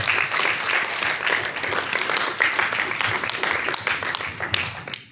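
Loud crowd applause at a youth forum, dense continuous clapping that holds steady for about five seconds before tapering off abruptly at the end.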